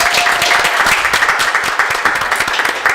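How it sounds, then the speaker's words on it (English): An audience at a live New Year's gathering bursts into loud, close, sustained applause, many hands clapping densely and evenly for the whole stretch with no voices over it. "I want to clap it up for everybody coming out for us"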